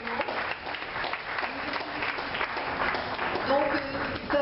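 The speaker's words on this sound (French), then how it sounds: "Fabrice, on l'applaudit également." At an exhibition opening at an airport, an audience gives a sculptor steady, moderate applause, with voices talking over the clapping throughout.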